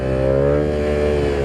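Yamaha R7 motorcycle engine held at steady high revs in first gear, a loud, close, buzzing drone for a brief moment, alone without talk.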